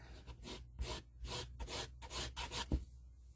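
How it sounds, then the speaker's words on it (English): Balsa wood being sanded on a model plane fuselage, a Keil Kraft Invader kit: a series of short rasping rubs in an uneven rhythm, close and fairly quiet, ending with a brief knock and then near silence. "Sand that down a little bit."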